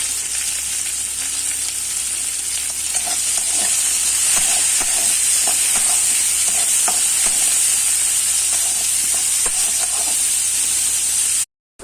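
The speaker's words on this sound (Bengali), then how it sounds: "কুচনো কাঁঠালের দানাগুলো ভেজে দেবো রসুনের সাথে।" Chopped jackfruit seeds, green chilli and onion fry with garlic in oil, making a loud, continuous hissing sizzle with light, repeated stirring taps throughout.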